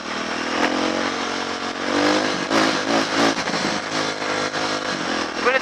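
A motorcycle engine running rich with an exhaust leak on its header pipes, idling loud and close with a rough, uneven putter and a few slight revs swelling and fading throughout.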